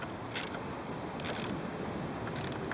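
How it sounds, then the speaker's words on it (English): Three short bursts of a ratchet clicking as it tightens thermostat housing bolts on a PT Cruiser, close and fairly quiet, with low garage hum between strokes. "Now just get your ratchet, tighten it down."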